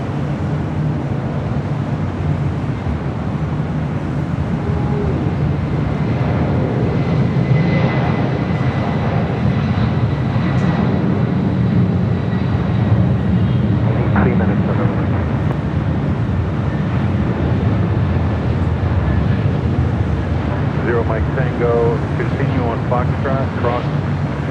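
An airliner rolls down runway 25 right at LAX, a loud, steady jet-engine roar that carries unbroken for the whole stretch, heard from a distance with wind buffeting the microphone.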